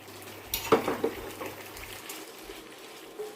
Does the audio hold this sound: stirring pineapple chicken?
yes